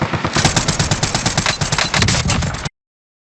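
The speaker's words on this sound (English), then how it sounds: "Watch how he misses his first couple of shots before it absolutely locks onto the enemy who is up in the sky with a parachute." Rapid automatic gunfire from a player in the video game Warzone, a loud, dense burst of shots fired close up in quick succession for a few seconds before cutting off abruptly.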